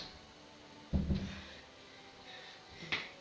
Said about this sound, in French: Attendez, je ferme la porte.